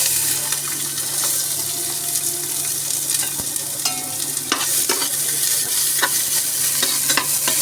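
Chopped onions fry in mustard oil in a loud, continuous, close sizzle, with frequent sharp clicks and scrapes from stirring throughout.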